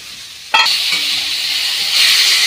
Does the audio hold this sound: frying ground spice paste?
yes